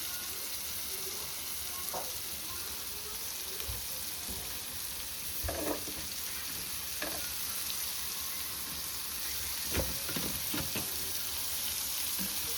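Prawns frying in oil in a pan hiss with a steady, close sizzle throughout, and a few soft clinks and scrapes of stirring break in now and then.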